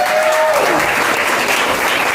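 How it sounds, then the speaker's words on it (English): An audience at a book event conversation claps steadily in a dense, loud wave of applause that holds evenly from start to finish. "Can we get another round of applause for these lovely people?"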